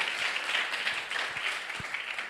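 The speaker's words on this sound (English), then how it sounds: "Can I have a round of applause for them," Audience applause at a climate governance conference, a steady wash of clapping from a seated crowd with a few low thumps, moderately quiet and continuous throughout.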